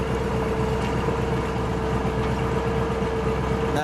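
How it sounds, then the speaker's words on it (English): A 1953 Buick Roadmaster convertible idles steadily, a low, even engine rumble that holds constant and close for several seconds with no voices. "Listen to it idle for just a second."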